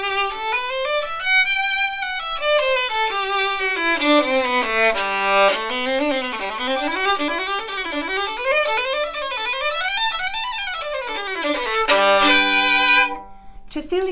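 A Cecilio CVN-300 student violin with D'Addario Prelude strings and a horsehair bow plays a smooth melodic passage, notes sliding up and down in arching phrases, solo and close, ending on a held low note.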